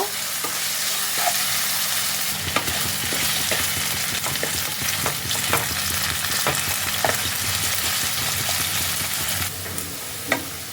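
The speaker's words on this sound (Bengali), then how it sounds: "আর দিয়ে দিচ্ছি সামান্য একটু হলুদ গুঁড়ো দিয়ে এটাকে বেশ খানিক্ষণ একটু ফ্রাই করে নেব" Potatoes frying in a pan with salt and a pinch of turmeric powder for a Kashmiri stuffed aloo dum. A continuous loud sizzle runs under repeated spatula stirring and scraping strokes, with no talking.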